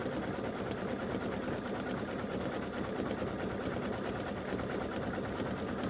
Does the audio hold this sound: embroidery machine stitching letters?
yes